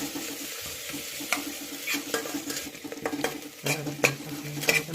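Masala and chicken fry in oil with a little sugar in a home kitchen pan, a steady close sizzle broken by repeated scraping stirs and clinks of a utensil against the pan, with no talk.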